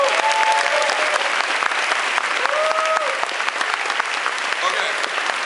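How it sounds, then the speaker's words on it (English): A large audience at a WFG team rally, Wealth Bowl 2017, bursts into sustained, loud applause that fills the room, with a few cheering voices rising over the dense clapping. "Give yourself a round of applause."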